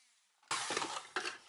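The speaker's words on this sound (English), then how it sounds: "use the Dremel to start cutting" A Dremel rotary tool fitted with a cutting disc bites into material along a marked line, giving a sudden loud harsh grinding whine that runs steadily, dips briefly, then surges again, with no talking.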